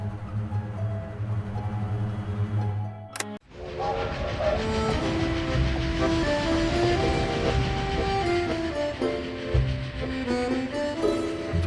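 A train in the Dracula 3: The Path of the Dragon video game rolls along the rails toward Bucharest with a sustained rumble and tonal whine, after a quieter humming start and one sharp clank.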